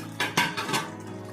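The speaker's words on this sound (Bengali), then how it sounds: "আমি ঢাকনাটা খুলে নেব।" A metal lid lifts off a pan of shrimp cooking on the stove. Two or three close clanks and clinks of metal against metal come in quick succession, with no voices.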